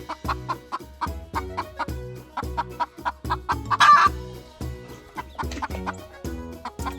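Farm chickens cluck in a steady repeating rhythm, close and clear, with a short squawk partway through and no talking.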